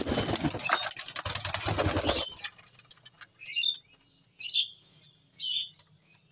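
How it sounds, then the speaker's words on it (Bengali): A male Fulshira Madras pigeon, held in the hand, sets off a loud burst of flapping and rustling. After a pause it gives three short, faint, high squeaks spaced about a second apart. "এটা হচ্ছে নর পায়রা, ফুলশিরা ম্যাড্রাস বলে, ফুলশিরা ম্যাড্রাস পায়রা।"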